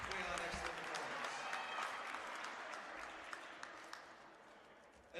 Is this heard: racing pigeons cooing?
no